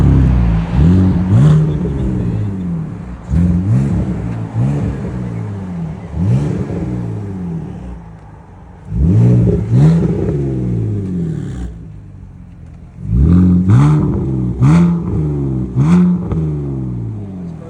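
A 2005 BMW Z4 with a muffler delete revs repeatedly, producing about half a dozen loud, raspy exhaust blips that rise and fall, separated by idle rumble, close to the car.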